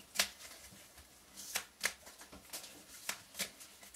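A deck of oracle cards is shuffled close by in brisk, irregular riffles and slaps. The crisp bursts are moderately loud, and no one speaks over them.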